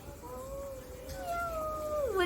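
A person's voice imitates a cat's meow, a faint, drawn-out wavering call that rises at the end, heard close and alone against a quiet background.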